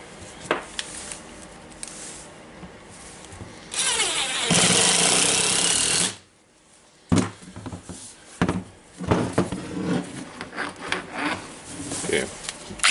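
A Makita 9558HN small angle grinder, just fitted with a new armature after a sparking fault, runs in one loud, close whirring burst of about two seconds. Scraping and clattering handling noises come before and after it.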